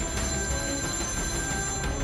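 A telephone rings continuously, a steady electronic tone holding without pause across the short stretch, loud and alone with no talk over it.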